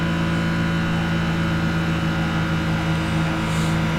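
A loud, steady engine drone with a strong low hum, a truck motor running at high revs in the racing game Gran Turismo 5, continuous and close.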